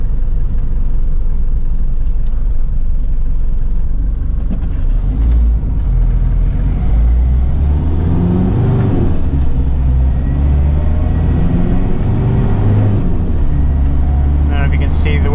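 A 1993 Daihatsu Rugger F78 turbo diesel 4x4 engine rumbles loud and close from inside the cab, rising and falling in rev through the drive while a person talks over it.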